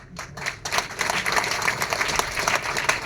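An audience at a training session claps in a loud, lively burst that starts with a few separate claps and builds into continuous applause, with a crowd murmur underneath.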